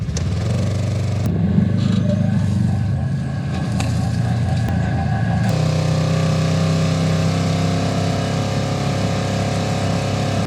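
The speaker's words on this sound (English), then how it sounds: "It's a really high whiny engine." A 2022 Polaris Ranger XP1000 Northstar engine running steadily up close, a loud, high whiny drone with a low rumble beneath, shifting pitch briefly midway before settling into a constant hum.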